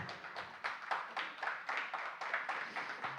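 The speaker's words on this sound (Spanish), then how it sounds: "recibámosla con un gran aplauso" An audience claps to welcome a speaker to the front at a cultural heritage gathering, a faint, distant patter of rhythmic hand claps over roughly three seconds.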